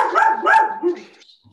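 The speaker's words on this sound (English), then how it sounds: "we got dogs, sorry, man." Dogs bark close by in a short, loud flurry of overlapping barks and yips that tails off after about a second.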